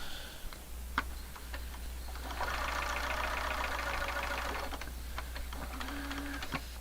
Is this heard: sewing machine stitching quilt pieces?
yes